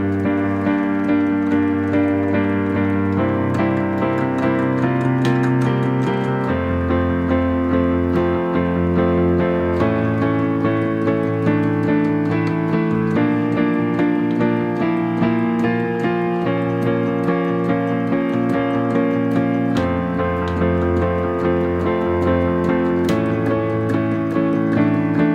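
Piano accompaniment for a song plays full chords over driving, fast sixteenth-note patterns in the left hand, loud and continuous with shifting harmonies and no voices.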